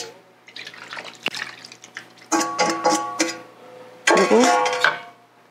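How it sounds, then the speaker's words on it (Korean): Water poured into a cooking pot, splashing and gurgling in a few separate pours with short gaps, close and fairly loud, faint voice briefly in the background. "조금 물을 더 부어야 돼요."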